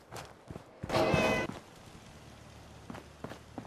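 A cat in the video game Fallout 4 lets out one clear, drawn-out meow at close range, with soft footsteps and quiet game noise around it.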